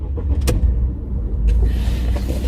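A 2013 Ford Focus 1.6 with leather seats starting up, a brief starter crank followed by a quiet, low idle rumble heard close from inside the car.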